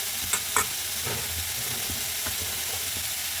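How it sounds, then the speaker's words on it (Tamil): Ginger garlic paste hits hot oil with softened onions in a pan, giving a steady close sizzle and a couple of light spatula taps early on, no talking. "இதில் இஞ்சி பூண்டு பேஸ்ட் போட்டுக்கலாம்."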